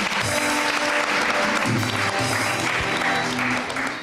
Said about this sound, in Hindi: बहुत सारी तालियां बजाइए जी।